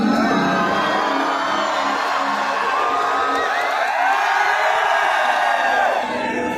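A big crowd at a live Punjabi concert in Fazilka roars and whoops continuously, a loud, sustained wall of cheering voices with no break.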